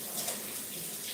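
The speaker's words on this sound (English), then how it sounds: "I'm just gonna add maybe a half a cup of water" Water poured into a cooking pot for cooking nopales, a steady splashing pour heard up close with no voices.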